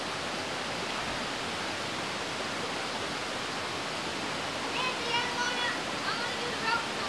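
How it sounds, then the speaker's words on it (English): Water rushes steadily over the upper dam of the Pennamaquan River, a broad, even roar heard from nearby, with faint higher sounds entering toward the end. "This is the upper dam of the Pennamaquan River."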